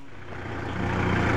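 A tractor drives along a rough, badly rutted dirt road to a rice paddy field, a steady loud engine drone with rattling that builds slightly over a short span.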